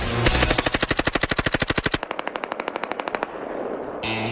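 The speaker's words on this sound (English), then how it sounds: "Let's get out there with a machine gun and try this out." A machine gun fires on full auto outdoors on a snowy mountainside, two sharp rapid bursts of evenly spaced loud shots, the second slightly quieter, then ringing echo.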